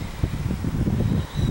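Gusty, chilly wind buffets the microphone with low rumbling bursts at a naval cemetery, close and fairly loud, with no talking.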